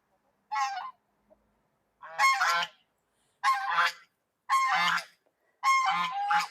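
Geese honk loudly nearby in five separate bursts of harsh, nasal calls, spaced about a second apart with quiet between.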